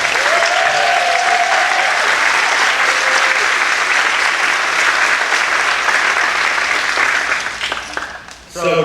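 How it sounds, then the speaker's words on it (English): A circus audience gives loud, dense, sustained applause that fills the space, then fades out near the end as a voice returns. "Give her a big round of applause."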